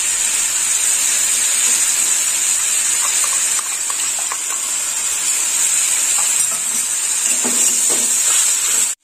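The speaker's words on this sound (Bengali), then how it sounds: "পেঁয়াজটা একটু লাল লাল ভাজা হবে।" Onion paste frying in a hot pan for a green jackfruit curry, a loud, steady hiss and sizzle running throughout, with a few faint clinks of a spoon partway through before it cuts off.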